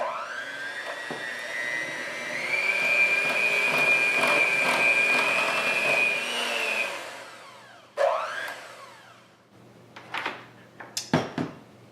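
Electric mixer beating butter icing tinted bright red: a loud, steady motor whine that climbs slightly in pitch, runs for about seven seconds and stops, followed by a few sharp clinks and knocks.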